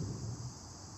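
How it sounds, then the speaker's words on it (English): Faint, steady insect chirring fills the background, crickets trilling continuously under a soft wash of outdoor noise on a grassy field, with birds also present. "the sounds of the crickets and the birds"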